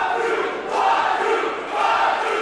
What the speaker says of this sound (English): Crowd getting behind Jacob Fatu here in the battlefield